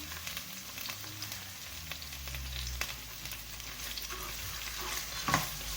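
Ginger and garlic paste fries in a pan for a mixed vegetable dish. A continuous close sizzle runs under repeated scraping stirs and a few clinks, with a louder scrape near the end.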